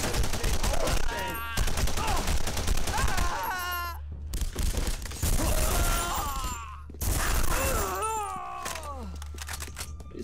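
Heavy gunfire from weapons in The Punisher video game, loud and dense bursts filling most of the stretch with brief pauses, overlaid by voices and game sounds.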